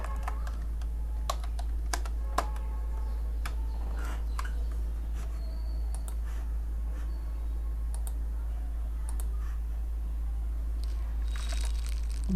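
Text being typed on a computer keyboard while designing a logo in Illustrator: scattered close key clicks over a steady low hum, with no talking.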